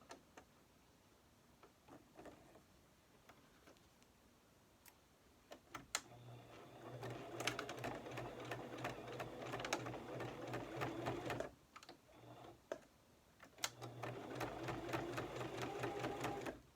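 Sewing machine top stitching fabric about an eighth of an inch from the edge to form an elastic casing: quiet ticks and handling at first, then two long runs of fast, steady mechanical whirring and clatter separated by a short pause.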